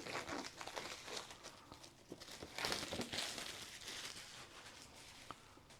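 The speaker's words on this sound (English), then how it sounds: "on the bottom we have this flap to open up this little foil that is protecting it" Protective foil and a paper flap on the bottom of a Huawei Pura 70 Ultra box crinkle and rustle steadily at close range, with small crackles and scrapes and no talking.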